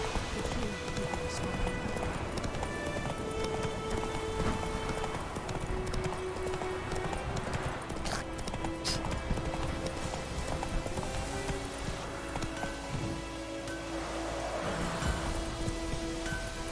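A horse gallops across the world of The Witcher 3: Wild Hunt with a steady, rapid clip-clop of hooves, a soft rain-like rustle beneath it and scattered sharper game sounds, and no one talks over it.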